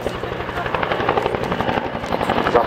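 A Bell TAH-1P Cobra attack helicopter runs loud and near, its rotor chop and turbine whine holding steady throughout.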